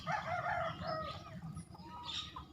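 Chickens clucking and calling on an overcast farmyard morning, several soft, distant vocalizations in quick succession over a low ambient hum, with nobody talking.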